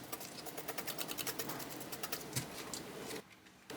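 A rapid, steady run of close scratchy strokes as scales are scraped off a frozen yellow croaker, then a brief near-silent pause at the end, with no talking.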